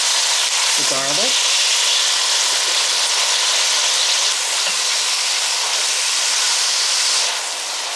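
Garlic sizzles loudly and steadily in olive oil and chicken fat in a soup pot, a dense continuous frying hiss throughout, with a brief faint voice near the start.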